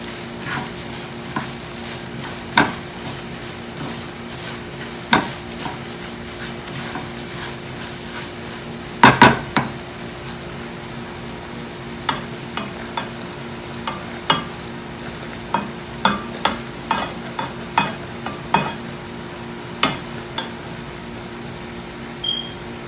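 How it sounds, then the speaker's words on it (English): A mohanthal mixture with mawa roasting over low heat in a pan, stirred now and then: a low steady sizzle beneath sporadic sharp clinks and scrapes of the spoon against the pan, with no voices. "you can let it roast in the low heat until mawa get mixed"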